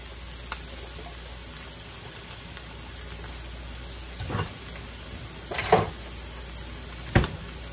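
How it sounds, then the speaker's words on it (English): Meat pie filling is stirred in a pan over a constant low sizzle, with a few scraping, thumping stirs of the spoon near the end and no voices. "Get that stirred up"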